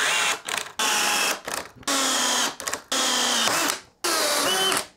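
A DeWalt drill in 3rd gear on a small battery whirs loudly in five bursts, each lasting about half a second to a second, with short pauses and brief stutters between them, close and alone.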